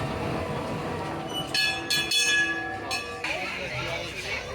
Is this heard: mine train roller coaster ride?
yes